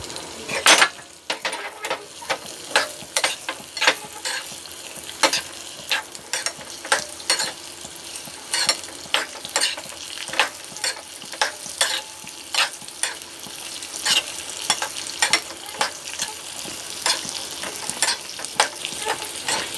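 Raisins frying in oil in a pan for carrot halwa: a steady close sizzle punctuated by frequent sharp clinks and scrapes of a spoon stirring against the metal, with no talk.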